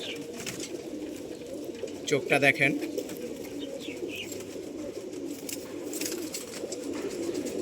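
A khaki pigeon coos in a brief, soft burst, surrounded by other pigeons in a loft, while someone speaks over the steady background murmur.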